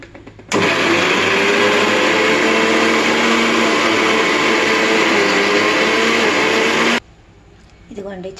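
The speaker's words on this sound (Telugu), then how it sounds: "మిక్సీ వేద్దాం ఇంకా" A mixer grinder whirs loudly and steadily for about six seconds while grinding peanuts with cumin into powder, then cuts off abruptly, leaving quiet with faint movement afterward.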